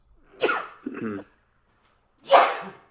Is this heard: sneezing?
yes